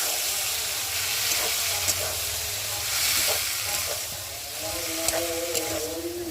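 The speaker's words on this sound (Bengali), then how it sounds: "আর এখন আমি এই যে সিদ্ধ করে রাখা কাবলি ছোলাগুলোকে দিয়ে দেবো, দিয়ে একটু ভালো করে কষিয়ে নেব।" Boiled chickpeas frying with chicken and spices in a pan give off a steady, broad sizzle with faint clinks of stirring, close and continuous with no talking.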